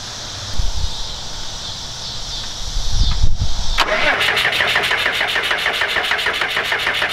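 A Cummins 5.9 diesel engine cranks briefly, then catches and settles into a loud, close, steady rattling idle.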